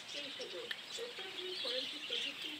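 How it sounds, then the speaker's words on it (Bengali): A flock of budgerigars chirping in fast, overlapping high twitters, fairly faint, with a low voice murmuring beneath. "এগুলো হচ্ছে সব বদ্রি পাখি"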